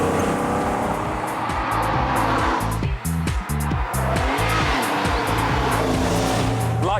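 A 350 bhp TVR sports car roars loudly and close, its engine rising and falling through gear changes with a rich, throbbing note and brief tyre squeal, running continuously throughout.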